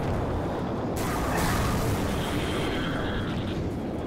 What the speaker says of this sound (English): Ion cannon sniping is so fun.